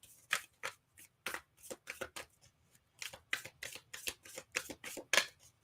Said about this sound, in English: let's pull a guidance card for Taurus.